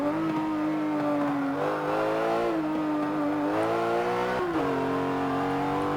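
A Porsche 911 GT3 RS engine screams at high revs around a racetrack, holding a loud, steady note that dips and climbs again through several gear changes and corners, with no voices.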